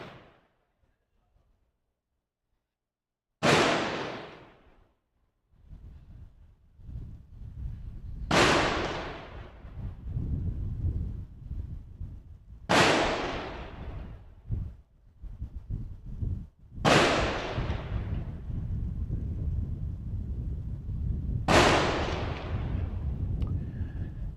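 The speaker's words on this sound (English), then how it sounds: "The national flag will be flown, hoist and flown above every other flag as the first sound of the cannon goes off" Cannon gun salute fired at a military parade for Grenada's 48th independence anniversary: five loud booming blasts spaced about four to five seconds apart, each followed by a long rumbling decay over steady crowd and outdoor background noise.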